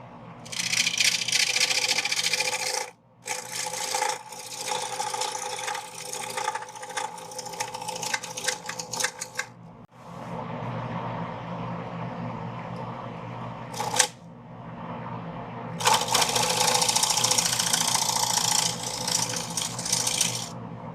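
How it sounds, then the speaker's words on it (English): A 1-inch round scraper cutting a live edge wooden bowl on a lathe gives a continuous rough, raspy scraping, close and loud, broken by short pauses as the tool lifts off the wood. "I've done all I can with a straight scraper, so I switched to a 1-inch round scraper."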